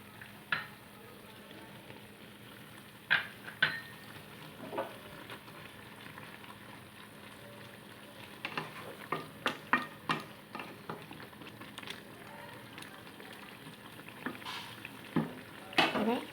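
Fried bata fish pieces go into a simmering red amaranth leaf curry and get stirred, making a soft bubbling simmer punctuated by scattered clicks and scrapes of a spoon against the pan, fairly quiet and close.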